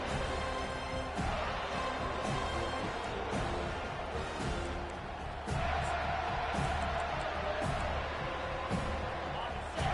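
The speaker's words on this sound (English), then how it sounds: "Decibels rising as the crowd gets behind this defense on 3rd down" Football stadium crowd at an NCAA Florida State game roaring steadily on third down, a dense sustained wall of noise with scattered shouts and thumps, broad and distant in character.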